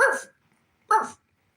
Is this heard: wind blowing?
no